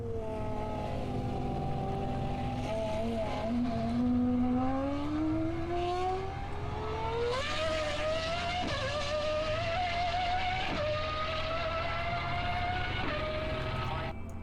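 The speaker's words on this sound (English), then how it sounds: "Now that's what a Formula 1 car should sound like." A high-pitched Formula 1 race car engine whines through rising gear changes, revving up and shifting repeatedly, loud and sustained over a constant background roar.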